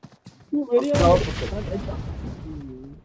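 A grenade blast and gunfire burst out in a video game: a sharp, loud explosion followed by a rumbling decay, with a voice briefly heard around it.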